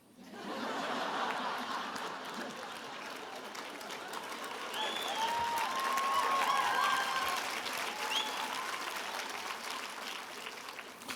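Audience applause at a college commencement address, a steady broad wash of clapping that swells in the middle and holds throughout, with faint scattered chuckles and voices mixed in.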